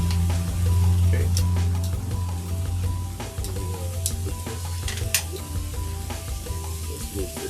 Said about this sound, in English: These onions are already getting a nice smoke on them.